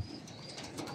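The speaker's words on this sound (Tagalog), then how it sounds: "Ito ang ibon natin si Colson, may itlog na siya." Pigeons coo in a fancy-pigeon loft, a soft, steady low murmur with a few faint higher chirps and rustles throughout, fairly close and continuous.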